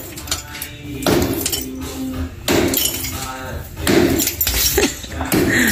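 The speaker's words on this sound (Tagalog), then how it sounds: "Basag sa akin yung tiles na yan" Tiles are broken, with several sharp cracking and clinking impacts at irregular intervals, loud and close, as people talk throughout.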